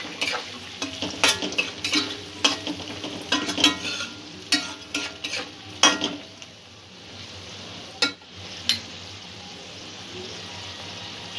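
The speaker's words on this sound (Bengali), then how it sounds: "লঙ্কার গুঁড়ো, মশলাটা একটু ভালো করে নাড়াচাড়া করে নেব।" Spatula scraping and stirring chili powder spice mix in a pan for prawn manchurian, irregular clattering strokes over a low sizzle, busy at first then sparser toward the end.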